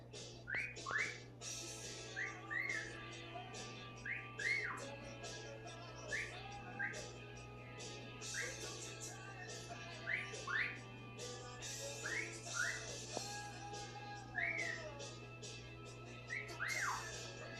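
A parrot whistling repeated short rising notes every couple of seconds over a low steady indoor hum, fairly faint and alone.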